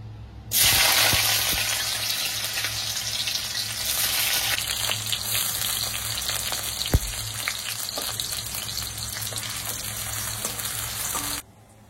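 Onions fry in white oil for beresta with a loud, close, continuous sizzle lasting over ten seconds, broken once by a brief clunk near the middle.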